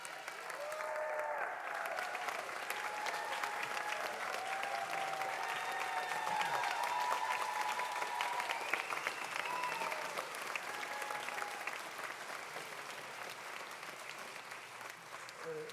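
Steady audience applause in a theatre after a Phantom of the Opera performance, sustained and even throughout, with faint voices and tones beneath the clapping.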